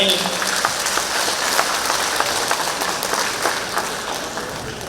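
An audience at a gala concert closing an international arts festival applauds the conductor with dense, sustained clapping that holds at a steady level throughout and is loud and close.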